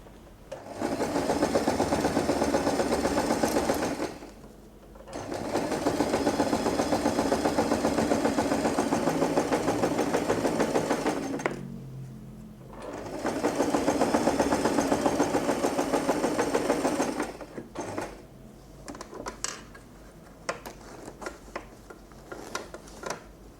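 A sewing machine sews several fabric layers of a pouch together. It runs in three long bursts of rapid, even stitching chatter close by, with short pauses between them, then light handling rustles at the end.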